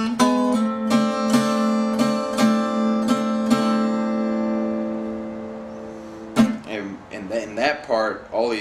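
Guitar plays the next part of a song's introduction, a short series of close plucked notes that rings out and fades, then a voice speaks over the last few seconds.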